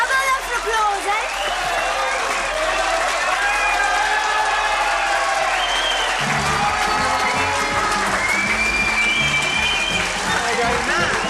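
Theatre audience applauding a Saturday-night music-hall act, a dense sustained patter of many hands mixed with crowd murmur and cheering, steady and fairly loud across the whole stretch, with voices and music audible underneath.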